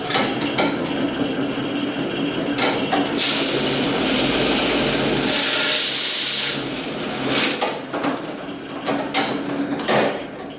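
A honeycomb wax uncapping machine runs loudly with clattering mechanical knocks and a dense hissing roar that swells in the middle, then settles back into rattling operation.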